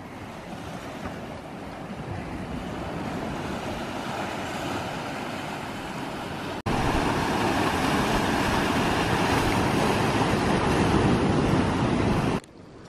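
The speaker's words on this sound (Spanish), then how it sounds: "El sonido que más me gusta y me relaja es cuando choca el mar con las rocas." Sea surf breaking against rocks on an island shore, a steady broadband roar of crashing water with wind noise that grows louder and more forceful about halfway through, then cuts off abruptly near the end.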